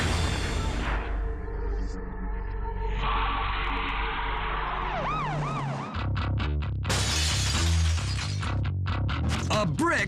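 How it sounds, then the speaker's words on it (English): A brick crashes through the glass door of a Pennsylvania pizzeria, a sharp burst of shattering glass amid a loud, busy mix of siren-like wails and other sounds. "A brick crashes through the glass door of this Pennsylvania pizzeria."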